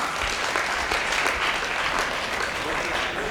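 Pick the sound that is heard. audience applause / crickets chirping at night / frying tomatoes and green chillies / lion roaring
audience applause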